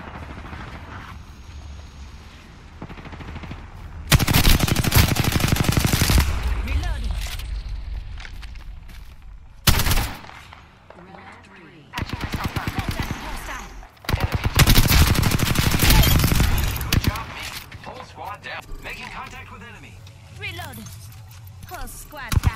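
Gunfire in an online shooter video game, loud bursts of rapid automatic fire in several clusters separated by quieter gaps, with a player talking over the action.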